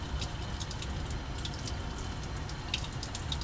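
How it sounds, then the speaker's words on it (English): Tap water runs steadily as a lab spatula is rinsed under a faucet, a continuous close splashing stream with a few small drips and no talk. "I'm just going to rinse the spatula to"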